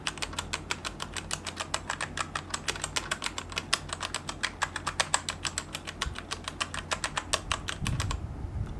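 Someone types quickly on a Royal Kludge RK855 mechanical keyboard with stock brown switches. The keystrokes are close and crisp, clicking in a steady, even patter before stopping abruptly.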